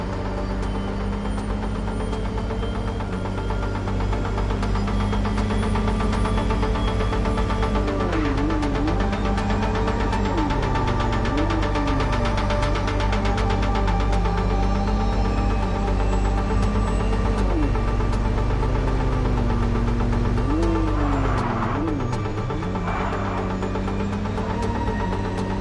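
A car engine drones steadily while driving in MindsEye, a continuous low hum with slight rises and dips in pitch as the vehicle speeds along, with no talking over it.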